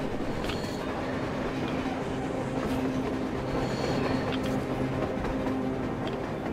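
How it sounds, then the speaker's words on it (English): In the video game Metro Exodus, a train rumbles past on the surface with a continuous heavy clatter and faint metallic squeals, steady and fairly close throughout. "A damn train on the surface!"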